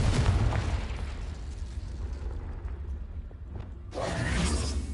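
A Confringo blasting spell in Hogwarts Legacy erupts with a loud close explosive burst that decays into a rumbling crackle, followed a few seconds later by a second rushing surge.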